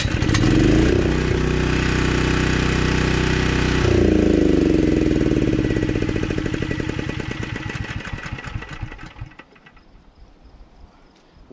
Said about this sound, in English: I'm going back to chainsaw carpentry.